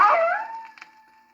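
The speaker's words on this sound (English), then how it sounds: "A timber wolf howled." A timber wolf howls once, a single drawn-out tonal cry that starts strong and fades into a thin sustained note, fairly close and alone.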